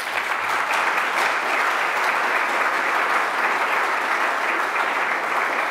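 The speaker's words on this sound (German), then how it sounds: "Applaus" An audience at an exhibition opening at the Deutsches Architekturmuseum applauds, a dense, sustained clapping from a sizable crowd, loud and even throughout with no talk over it.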